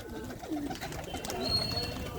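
Racing pigeons in a home loft give soft, low cooing that runs steadily and faintly throughout, with no voices over it.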